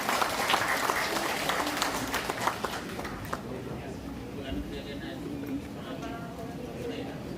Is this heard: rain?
no